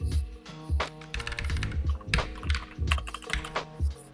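Fingers type on a computer keyboard during a software development session, a close, steady run of sharp key clicks and thumps with short pauses, no voices.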